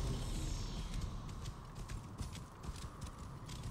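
Horse hooves in the video game Assassin's Creed Origins clop in a steady, fairly quick gait, moderately close over a dense rumbling outdoor ambience.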